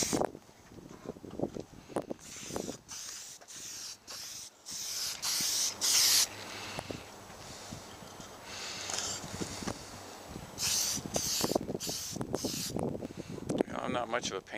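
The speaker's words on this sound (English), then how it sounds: "Spray 2 even coats to achieve wet look." Several loud bursts of aerosol coating spray hiss in short strokes onto a carbon fiber motorcycle skid plate, separated by pauses with quiet rustling and a voice talking in between.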